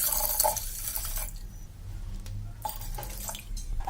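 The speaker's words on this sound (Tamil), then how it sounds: "6 கிளாஸ் தண்ணி சேர்க்க போறேன்" Close-up water pouring and splashing into a pot while making sweet pongal, a rushing stream that shifts and thins toward the end.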